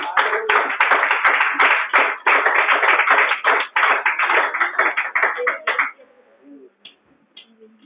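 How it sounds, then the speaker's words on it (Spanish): A congregation at a Spanish-language church service claps loudly and rapidly in a dense burst for about six seconds, then the applause drops away to faint scattered sounds. "Un fuerte aplauso al Señor"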